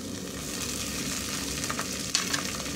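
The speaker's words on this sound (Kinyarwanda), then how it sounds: "hano ndi gukaranga ibitunguru" Onions fry in a pan with a close, even sizzle of hot oil that holds steady throughout, broken by a brief sharper crackle near the end. No one speaks.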